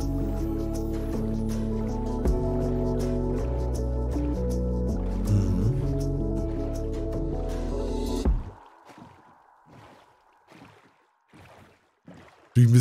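A Minecraft boat skims across water, with game music playing for the first eight seconds. Then rhythmic splashing paddle strokes take over, coming as separate wet bursts about a second apart in near quiet, before a loud sound cuts in at the very end.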